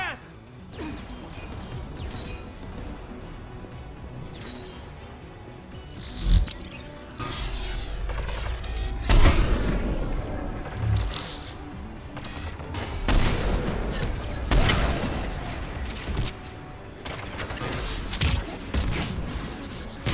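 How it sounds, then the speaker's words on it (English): Geth turret gunfire in the Mass Effect 3 video game, bursts of rapid shots and heavy impacts crashing through a noisy battle, with voices talking over parts of it. "Shepard, you should be able to use the Geth's turret."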